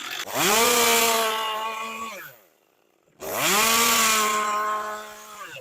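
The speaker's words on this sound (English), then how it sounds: "I can do it with the chainsaw for the most part without pulling other tools out" Chainsaw revving hard as it carves a wood spirit face into wood, two long loud bursts at full throttle separated by a brief drop to near silence, close and with no talk.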